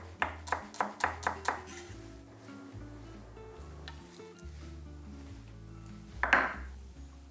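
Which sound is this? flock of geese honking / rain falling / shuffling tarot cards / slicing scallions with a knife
slicing scallions with a knife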